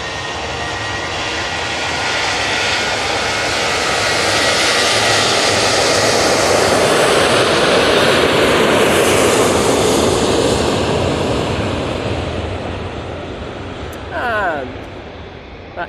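A Jet2 airliner operated by a charter carrier thunders down the runway departing Manchester Airport for Naples, a loud sustained engine roar swelling to a peak midway and then slowly fading.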